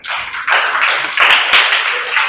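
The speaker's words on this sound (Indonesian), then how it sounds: "Untuk semuanya beri aplaus Mas Galang dan Mas Noval" A class applauds two student presenters, a short burst of many hands clapping in a room, fairly loud and dense, swelling in a few waves over a couple of seconds.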